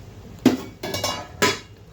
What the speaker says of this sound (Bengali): ঢাকনাটা উঠিয়ে দিই।